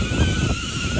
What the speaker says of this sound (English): Is that the wind?